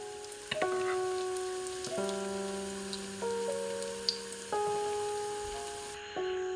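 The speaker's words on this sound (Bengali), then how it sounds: "ডিমের চপগুলোকে আমি ব্রাউন কালার করে ভেজে নিয়েছি" Egg chops deep frying in hot oil until brown, a steady soft hiss running beneath louder background music throughout.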